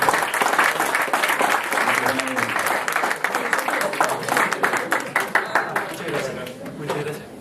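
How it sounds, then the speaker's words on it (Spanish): Sustained applause from a seminar audience, dense and fairly loud, thinning into separate claps toward the end, with a voice faintly under it. "Les damos un aplauso por su tiempo."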